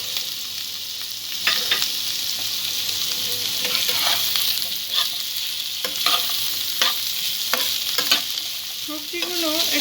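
Vegetables frying in a pan for a bread pulao: a steady, close sizzle with repeated scraping strokes of a spoon stirring through, no voices.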